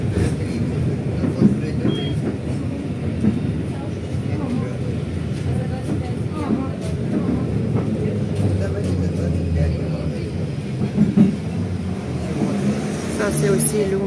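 Tram ride through a city centre, with steady low rumble and rolling noise from the carriage throughout, a continuous, fairly loud ride sound with faint voices underneath.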